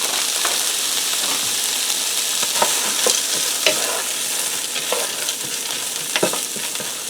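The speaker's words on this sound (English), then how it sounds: "we're just going to allow these to fry over medium heat for a few minutes until they warm through" Frozen peas and carrots frying in sesame oil over medium heat, giving a continuous bright sizzle with scattered stirring taps and scrapes, close by and alone without talk.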